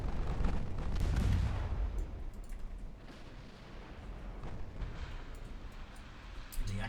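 Naval guns firing in a warship battle in the video game Ultimate Admiral Dreadnoughts, with heavy booming blasts that rumble and fade, followed by lighter distant reports and a sharp burst near the end.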